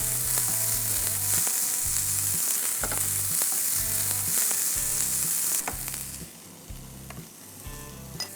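Peas hit a hot pan of diced capsicum and blanched carrots for a vegan Thai salad, setting off a loud, steady sizzle that drops to a quieter hiss partway through, with regular stirring clatter and no talking.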